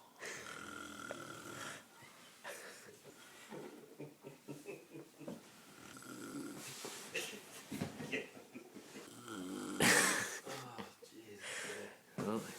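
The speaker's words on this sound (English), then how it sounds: "snoring, as he does every night." A man snores in his sleep at night, giving rough, rattling breaths in a slow, uneven rhythm, close and fairly loud, with faint murmuring voices mixed in.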